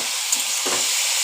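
Bottle gourd curry with potatoes and chilli paste frying in a pan, giving a steady close sizzle with a brief stirring scrape midway and no talking.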